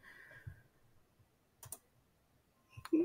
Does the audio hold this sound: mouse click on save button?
yes